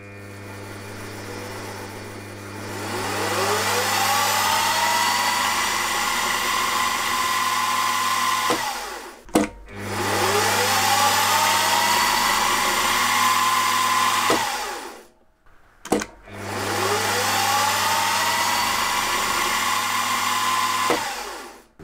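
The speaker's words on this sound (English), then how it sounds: "Apart from drilling and tapping these side holes here for the bolts, I need to drill a hole here." Small drill boring holes in engine conrod end caps with a 7/64 bit, three sustained high whining runs with rising pitch at each start, separated by brief pauses; no talk.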